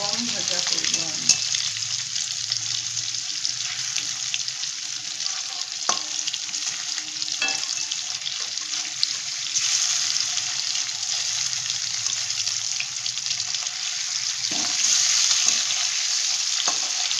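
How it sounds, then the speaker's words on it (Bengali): Paneer frying in hot oil in a home kitchen: a steady, bright, close sizzle continues throughout, with occasional light clicks and scrapes of a utensil, no voices. "দেখুন পনিরটা আমি এইরকম ভেজে তুলে নিচ্ছি।"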